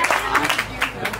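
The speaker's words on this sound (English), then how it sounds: "guys, an applause for her." A small tour group on a Tuscan wine tour gives a brief scatter of clapping, a few uneven claps mixed with voices talking over them.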